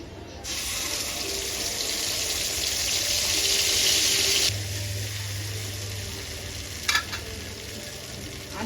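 Cashew, melon seed, poppy seed and ginger paste hitting hot oil as a tempering for chhana biryani, a loud steady sizzle that drops back to a gentler fry, with a brief clink near the end.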